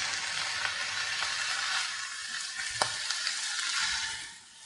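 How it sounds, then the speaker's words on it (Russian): Cabbage frying in a pan before stewing gives a steady, fairly loud broadband sizzle throughout, with one sharp click near the middle and the hiss easing off at the end. "Так, пусть пока пожарится сейчас немножечко."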